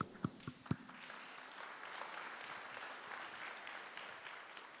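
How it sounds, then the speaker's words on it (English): A summit audience gives a round of applause, a few sharp early claps swelling into a soft, even patter of many hands heard from a distance, moderately quiet. "A round of applause for Chris, please."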